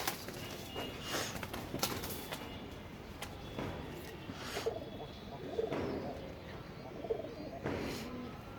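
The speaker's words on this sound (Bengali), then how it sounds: "হ্যাঁ এটা হলো কবুতর" Domestic pigeons kept by a fancier coo several times from nearby, soft repeated calls set against steady background noise, with some faint voice now and then.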